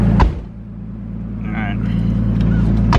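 A car engine with an aftermarket exhaust runs at a loud, steady idle, a deep continuous drone that swells slightly, close to the microphone throughout.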